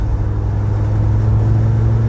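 A Ford Sierra Cosworth 4x4 accelerates hard, its engine giving a loud, steady, close rumble with a strong low drone throughout and no talking.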